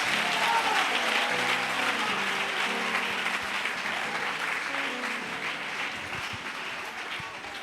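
A church congregation applauding the Lord, dense sustained clapping from a crowd with faint voices mixed in, loud at first and easing slightly toward the end.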